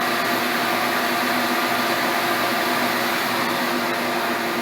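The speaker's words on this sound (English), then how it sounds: "they used the machine to grind it all off" A grinding machine works down the top of a railway car journal box with a loud, continuous, even roar that holds steady throughout, close by and with no breaks.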